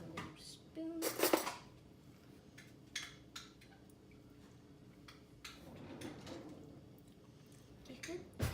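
A small spoon clinks lightly against a bowl of apple horseradish cream during tasting, with a few sharp metallic taps and scrapes spread across a quiet kitchen, and a brief, faint voice is also heard.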